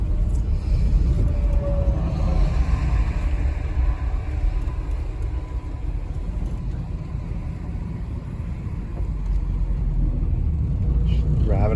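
Inside a moving Plymouth with a Slant 6 and a three-on-the-tree column shift, a low engine and road rumble drones steadily while people talk throughout.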